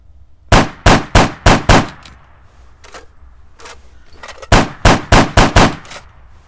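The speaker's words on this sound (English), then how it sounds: "Let's try a little more shots." 12.7mm APDS rounds fired in the video game Arma 3, two loud close bursts of five sharp rapid shots each, separated by a quieter pause with faint clicks, no talking.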